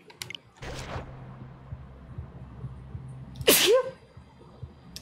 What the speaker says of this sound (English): Sorry, big sneeze.